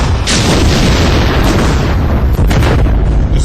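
Indian Army artillery guns fire shells during a live exercise at Devlali, Nashik: loud, close booming blasts with heavy rumbling roar that fills the whole stretch and no voices.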